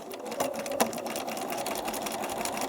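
A sewing machine runs a locking stitch on quilt piecing fabric, a steady, close mechanical hum with fast rhythmic needle ticking and a couple of sharper clicks early on.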